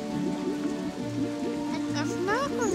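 Gentle magical rain patters steadily through an animated cartoon scene, a soft continuous wash with bright whistling, swooping tones layered over it, while voices speak throughout.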